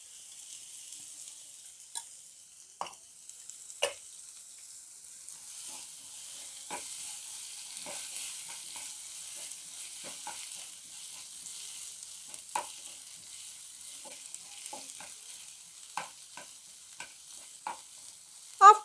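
Oil heating in a frying pan while cooking sambar, a faint steady hiss with scattered soft crackles and pops throughout, heard alone.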